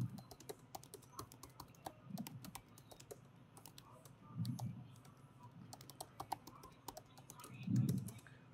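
Rapid clicking keystrokes on a computer keyboard, moderately faint and steady, with a few soft thumps from nearby movement.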